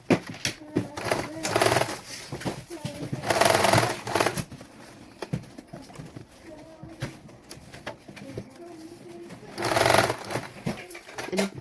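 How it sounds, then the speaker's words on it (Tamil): A sewing machine stitches a cloth baby langot in several running bursts of rapid mechanical chatter, close and clear, with quieter handling pauses between them and a voice talking at times. "இப்படி நான் மடிச்சு இப்படி நான் தைச்சு கொண்டு வரேன்"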